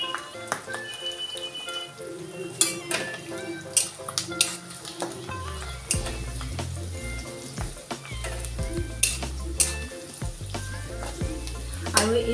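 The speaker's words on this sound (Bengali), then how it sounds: "এইদৰে একদম ৰংচুৱা হোৱা কৈ মানে পাত কেখিলা আৰু পিয়াজখিনি কলা পৰি যোৱা কৈ আপোনালোকে ভাজি ৰাখিব" Onions and hibiscus leaves fry in hot oil in a pan, a continuous crackling sizzle with frequent sharp pops and scraping stirs, close and fairly loud throughout.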